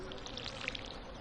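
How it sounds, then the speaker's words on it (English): Soft splashing pours from a watering can over corn seeds in a farming video game, a faint steady trickle with a few small bright blips on top. "water all of our corn seeds here"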